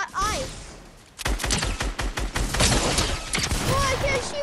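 Rapid gunfire in a Lucky Block-style video game, with dense bursts of shots and explosive cracks starting after a brief quieter moment, mixed with game effects throughout.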